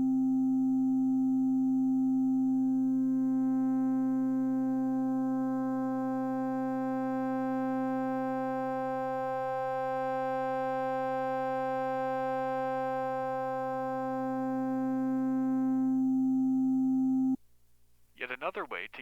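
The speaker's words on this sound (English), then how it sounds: "I will slowly bring in different harmonics on this sine wave that we have been working with" A loud, steady sine tone played through a speaker gains harmonic overtones one after another, its timbre slowly growing richer over a long sustained stretch before stopping abruptly, followed by a brief different sound.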